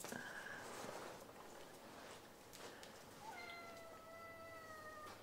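A cat meows a few times, faint and mid-distance, with drawn-out rising calls against a quiet, noisy room background.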